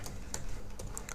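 Python for-loop code typed on a computer keyboard, a quick, steady run of close, clicky keystrokes over about a second, alone with no talking.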